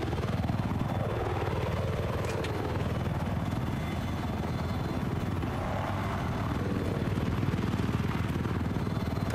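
Attack helicopter flying in Battlefield 4, a Viper gunship: a steady, loud rotor and turbine drone runs throughout with slight pitch sweeps, mixed with dense game background noise and no clear speech.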